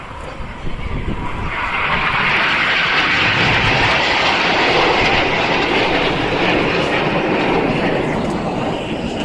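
Red Arrows-style display team jets roar overhead at the Clacton Air Show 2013, a loud continuous broadband engine rush that swells and holds across the whole pass.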